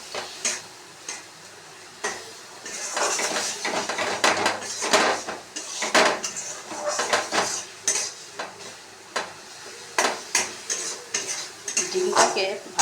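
Egg curry with tomato and ground spices being stir-fried in a pan, the spoon scraping and clinking against the metal in a steady rhythm over a gentle sizzle, close up with no talking.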